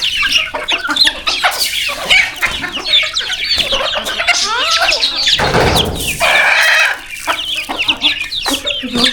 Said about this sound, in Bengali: চাল দিবে মুরগিকে।